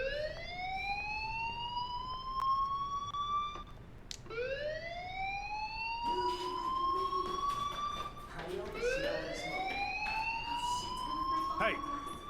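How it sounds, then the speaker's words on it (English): Fire alarm ringing inside a school building in the video game Life is Strange: repeated rising electronic wails, each sweeping upward for a few seconds, loud and close, with brief talk and movement sounds between them. "Do you hear that fire alarm?"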